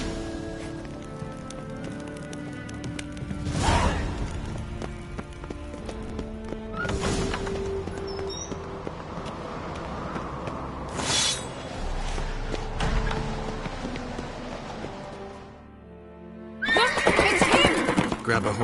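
A horse in The Witcher 3 whinnies loudly several times as its hooves clop, with rain pattering underneath and game voices speaking between the calls.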